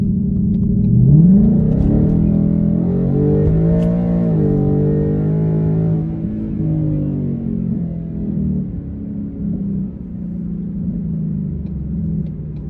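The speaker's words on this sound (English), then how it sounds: "So there's a little bit of the exhaust opening up." A loud, deep V8 engine note rises as a 2021 Ford Mustang GT with a Flowmaster Outlaw exhaust and X-pipe accelerates, its exhaust rumbling and revving up before settling into a steady drone.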